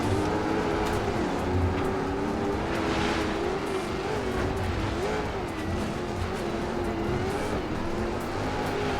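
Rear-wheel-drive rally car drifting in the racing game DiRT 4: a continuous loud engine drone whose pitch wavers and swells through the slide, with faint tyre scrub beneath and no voices.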